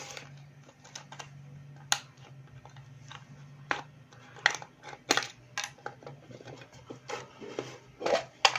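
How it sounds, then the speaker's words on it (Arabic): Coins spill and clink out of an opened piggy bank, with scattered small metallic taps and clicks, some sharper than others, over a faint low hum. "هنفتح الحصالة بقى مع بعض، ويلا بينا. اهو نفتحها، وفتحها صغيرة أوي."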